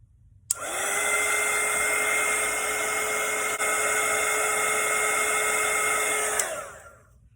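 A hair dryer switches on with a click and blows at a steady whir for about six seconds to dry watercolor paint, then shuts off and winds down.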